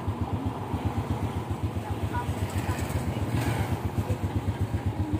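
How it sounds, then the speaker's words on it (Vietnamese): A Kim Dong motorcycle engine with a steel frame idles close by in an even, rapid, quiet putter that holds steady throughout. "Máy nổ là thì thầm"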